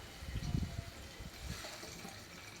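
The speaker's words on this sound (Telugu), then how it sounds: "ఆ చింతపండు రసం అయితే పోసేద్దాం" Tamarind juice is poured into a pot of okra sambar, a faint, soft trickle and splash of liquid lasting a couple of seconds.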